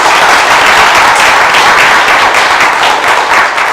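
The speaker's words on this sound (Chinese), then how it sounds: "我们拍手来欢迎他们。" A church congregation at a Taiwanese-language service applauds to welcome a family, with loud, close, even clapping sustained from start to finish.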